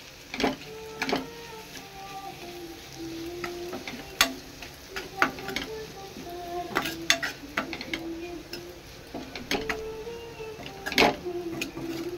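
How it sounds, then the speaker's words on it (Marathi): A spoon stirs raw jackfruit curry with grated coconut in a pan, making repeated scraping clicks and knocks over a soft background sizzle. "पुन्हा हलवून घ्यायचं।"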